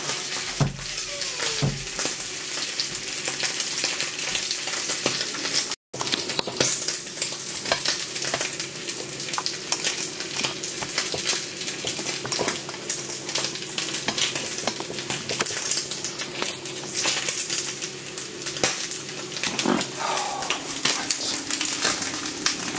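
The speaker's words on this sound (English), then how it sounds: "I'm now going to seal that off in a hot pan to get some colour onto it." Pork belly searing in a hot pan, producing a loud, continuous close-up sizzle with occasional crackles and faint utensil movement throughout.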